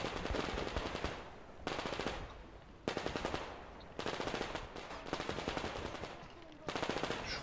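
Machine gun fire crackles through a snowy firefight in the video game Metro Exodus, with repeated rapid bursts in clusters broken by short gaps, moderately loud and close, with no talking.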